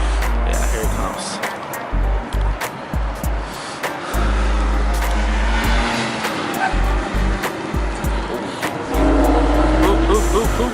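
A race car roars past on a track, engine loud and sustained with rising and falling pitch as it takes a corner, under excited commentary from spectators talking nearby.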